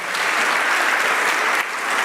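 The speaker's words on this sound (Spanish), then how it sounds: "Dele un aplauso al Señor si usted lo cree." A church congregation applauds during a sermon, a dense, steady wash of clapping that fills the space at full volume for the whole moment with no voices over it.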